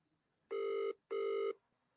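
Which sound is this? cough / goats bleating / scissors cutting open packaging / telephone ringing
telephone ringing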